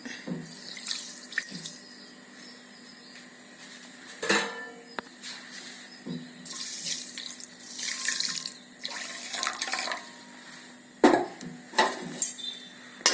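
Water pours from a tap into a wide pan of sugar while making syrup for corn flour halwa, with a running splashing stream interrupted by louder bursts and the clink of utensils against the pan, indoors with no talk.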